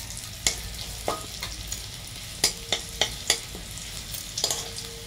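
Onion, garlic and green and dried chillies fry in oil with a soft sizzle, broken by several sharp spatula scrapes and knocks against the pan at irregular moments, close and fairly quiet.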